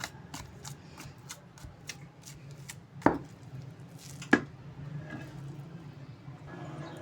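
Chicken shami kebab mixture is pounded and ground in a mortar, giving a steady series of soft rhythmic thuds and scraping strokes, with two sharper knocks standing out, close and moderately loud.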